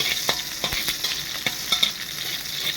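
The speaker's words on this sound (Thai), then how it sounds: "ครับน้ำมัน ใส่ไปนิดนึงนะครับ แล้วก็กระเทียมเจียวไปก่อน" Garlic frying in a little oil for Lanna-style pork larb makes a bright, close sizzle punctuated by quick taps and scrapes of stirring, with no voices.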